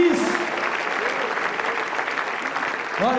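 A church congregation at a worship service claps loudly together, a dense burst of applause with a voice speaking briefly over it at the start and again at the end.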